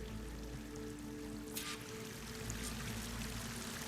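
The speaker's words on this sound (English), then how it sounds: "That waterfall must be coming from somewhere." A waterfall in Horizon Forbidden West pours as a steady, dense roar of rushing water, constant and fairly distant, with no voices over it.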